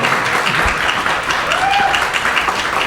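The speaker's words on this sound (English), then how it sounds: "most of the people that are applauding on that statement by Mr. Wax live in my district." An audience at a city council meeting applauds, a dense, steady wash of clapping that fills the room from start to finish at moderate loudness.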